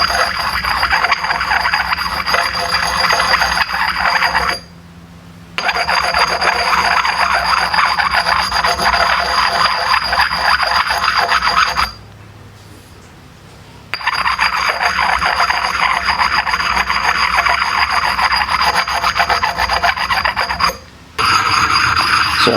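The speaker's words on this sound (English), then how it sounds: "using a sharpening puck or a hone like this, you maintain a constant angle and just, circular motion on the bevel" Splitting maul bevel being honed with a sharpening puck and 3-in-1 oil, a loud continuous rasping scrape in circular strokes, broken by three short pauses, with no talking.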